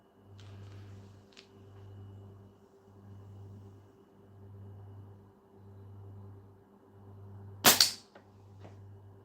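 A slingshot shot rings out outdoors, one sharp loud crack and snap near the end, over a quiet background with a low repeating hum.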